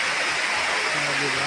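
Nalalata Falls waterfall in Bula, Camarines Sur, a loud, continuous rushing hiss of falling water filling the scene while a person speaks briefly over it.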